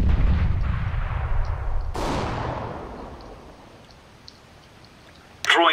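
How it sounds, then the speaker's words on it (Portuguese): Grenade exploding in Counter-Strike: Global Offensive: a loud blast with a long decaying rumble, followed about two seconds later by a second sharp boom that fades out, with a brief voice at the end. "Grenade out!"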